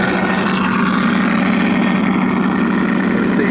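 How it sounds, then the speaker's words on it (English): An engine sound module on a FreeWing P-51D Mustang RC plane drones steadily with a throbbing low hum and broad hiss, loud and unbroken for several seconds, like a revving piston engine. "you can hear the engine revving"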